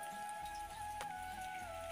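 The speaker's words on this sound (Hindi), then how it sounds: "पर मैं ना दिखाती हूँ बाहर हल्की धीमी धीमी धीमी धीमी सी बारिश" Light, gentle rain falls outside on a windy day, a soft, continuous patter with faint drips, steady and quiet, with a thin tonal hum in the background.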